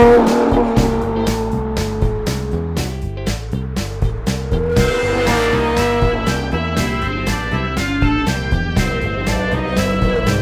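A sports car drives past with a sustained loud engine tone that rises and shifts pitch, underlaid by a steady rhythmic beat.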